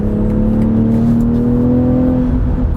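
A 2022 BMW X3 M40i pulling hard from about 92 km/h to pass, a steady close engine drone whose pitch climbs gradually under road and wind noise, no talking.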